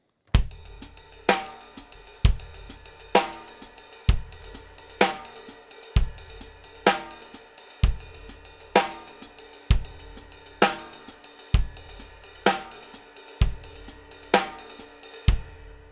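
A drum pattern shifts from triplets to semiquaver 'and a' figures on the right cymbal, with steady ringing cymbal strikes over regular lower drum hits, played continuously for a long stretch with no voices.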